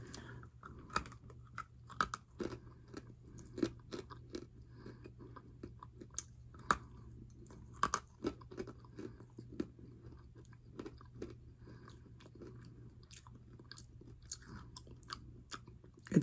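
Almonds are eaten close to the ear in a quiet room, giving sharp, irregular crunches and bites repeated throughout with soft chewing in between.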